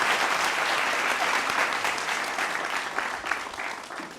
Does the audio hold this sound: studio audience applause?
yes